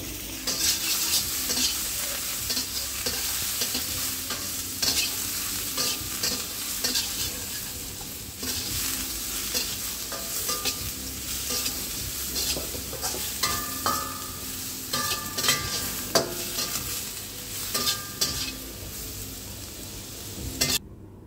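Headless shrimp fry in a hot pan, giving a continuous loud sizzle with repeated scraping and clinking of a utensil stirring them, steady throughout with no talking.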